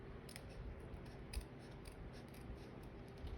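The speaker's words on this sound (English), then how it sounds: "I'm just going to make sure my scissors go right in between" Quiet, close snips and slicing of scissors cutting through designer series paper for a card, several short crisp cuts in a row with no talking.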